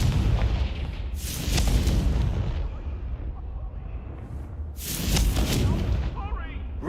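Confringo fire spell explosions in the Hogwarts Legacy video game, two heavy booming blasts with rumbling tails over game ambience, a voice speaking between them.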